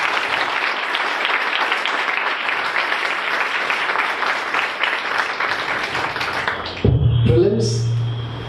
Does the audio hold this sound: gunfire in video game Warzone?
no